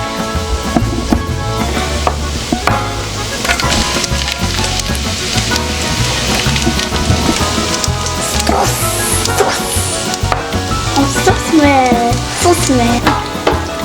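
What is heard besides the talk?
garlic added to browned onions, frying in a pan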